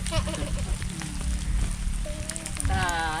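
Steady rain patters on a surface in a continuous hiss, with faint bird calls and a voice murmuring in the background.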